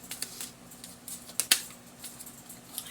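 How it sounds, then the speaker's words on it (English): A large deck of cards being shuffled produces irregular soft riffling patters and light slaps, close and fairly quiet, with one sharper snap midway and a low steady hum underneath. "This deck is hard to shuffle because it's so bloody big."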